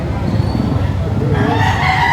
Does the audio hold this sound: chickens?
yes